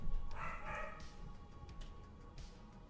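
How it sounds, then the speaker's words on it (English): A pet dog barks and yips faintly a few times, small distant bursts against quiet indoor room noise. "I apologize if you can hear my dog"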